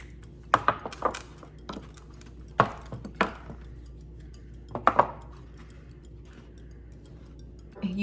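Pepperidge Farm puff pastry shells being broken apart by hand on a baking sheet, a few crisp cracking snaps and taps in short bursts near the start and around the middle, with quieter pauses between.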